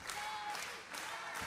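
Wrestling crowd at a SoCal Pro Wrestling show in Vista, California, cheering and applauding as a continuous wash of clapping and crowd noise, fairly loud but brief.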